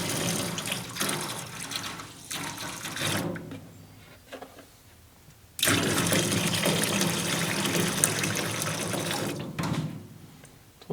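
Tap water pours and splashes into a parts washer to thin a cheap degreaser, a steady rushing stream that cuts off midway, leaves a quiet gap with small drips, then resumes just as strong for the rest.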